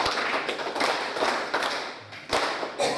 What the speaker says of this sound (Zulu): nimshayele uNkulunkulu ihlombe